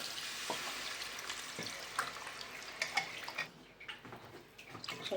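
Water poured into a cooking pan of crab masala: a steady splashing pour for a few seconds that breaks into lighter trickles and drips, close by and moderately loud.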